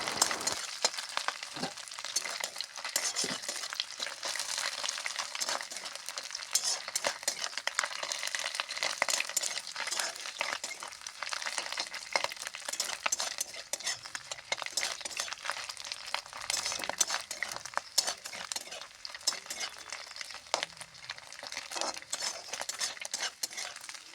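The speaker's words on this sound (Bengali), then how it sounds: "শুটকিকে কিন্তু ভালো করে প্রথমে ভাজতে হবে, লাল লাল করে" Dried fish frying in oil in a pan until reddish, stirred continuously with a metal spatula, giving steady scraping and clinking over a soft, constant sizzle with no talking.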